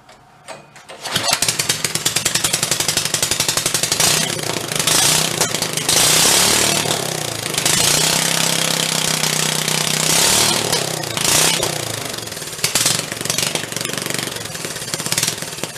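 A big engine fitted into a tiny 1960s Corvair Monza toy car runs loud and steady, a harsh rattling drone with uneven surges and pulses after a quiet start.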